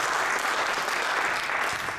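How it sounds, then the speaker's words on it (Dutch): Audience applause at an ICT and AI masterclass, a steady, dense clapping from a room of people that holds evenly for about two seconds with no talk over it. "Mag ik jullie applaus voor deze expert hier op tafel?"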